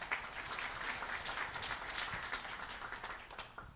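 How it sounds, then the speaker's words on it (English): Dense applause from a conference audience at the TDA Summit 2022, clapping for Paul and his staff. It holds steady and fairly loud for about four seconds and tapers slightly at the end, with no talk over it. "So please give Paul and his staff a big round of applause."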